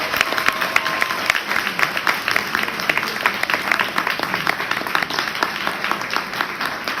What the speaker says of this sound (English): Can we please give David and Eunice Bigelow a huge round of applause?